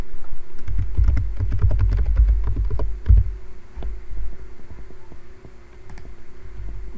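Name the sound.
typing on a computer keyboard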